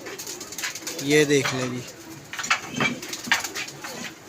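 Pigeons being brought down at a pigeon club after dark coo and flutter close by, with short calls and soft wing sounds mixed among a voice.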